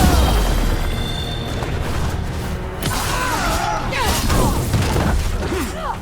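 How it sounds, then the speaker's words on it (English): Mortar fire in Dragon Age: The Veilguard: heavy booms and crashing impacts with mechanical clatter and debris, loud and close, with short voice fragments and shouts mixed into the chaotic battle noise. "They've got mortars."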